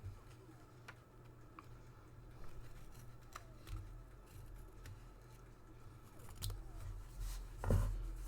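Scissors cut paper for a planner page, giving a few faint snips and soft clicks over a low background hum, close by and without talking.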